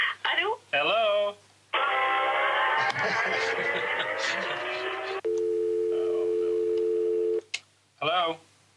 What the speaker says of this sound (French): À Los Angeles, Tim Delaunay reçoit un appel urgent de Paris